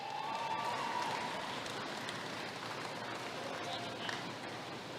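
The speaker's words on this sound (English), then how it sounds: "Give another round of applause to our intermediate showman" Sustained clapping from a crowd at a 4-H and FFA county fair beef cattle showmanship event, steady and moderately loud throughout, with a voice partly audible beneath it.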